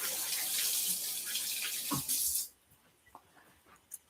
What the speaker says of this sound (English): I've washed my hands, and I'll wash again